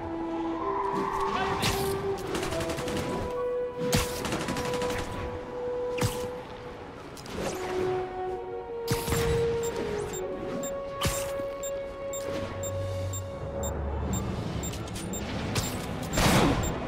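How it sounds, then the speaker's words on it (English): Rapid bursts of gunfire crack out from stolen vehicles in Marvel's Spider-Man, with repeated sharp shots spread through a steady, busy mix of engine noise and game music at moderate loudness. "prisoners are opening fire from stolen vehicles"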